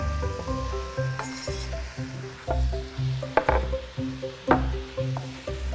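Chopped celery hits a pot of kulish, a traditional Cossack millet stew, and sizzles steadily, with scattered clinks and stirring knocks of utensils against the pot throughout.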